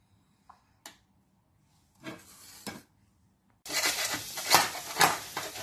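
Paneer pieces sautéing in butter, heard as a few scattered clinks and scrapes followed by a loud, steady hiss and crackle that swells near the end.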